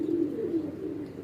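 Pigeons cooing close by on a rooftop, a low steady burbling coo that rolls on without pause for about a second.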